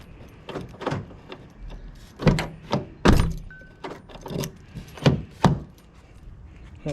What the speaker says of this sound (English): I can hear the locks,